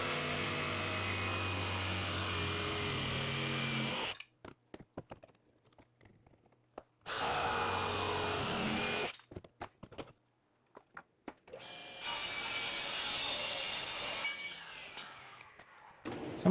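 Bursts of a power saw cutting a wood template for a router table, three loud runs of a few seconds each separated by near silence and small clicks of handling.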